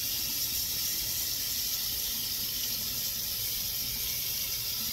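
Running water from a sink tap while a face scrub is rinsed off, a steady broadband hiss and splash that holds evenly throughout at a moderate, close level with no talking.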